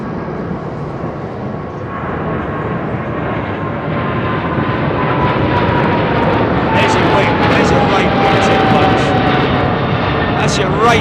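A Boeing 777-300 airliner at London Heathrow produces a loud, rising jet roar with a faint whining tone drifting downward, while people chat over the engine noise.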